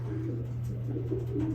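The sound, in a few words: pigeons cooing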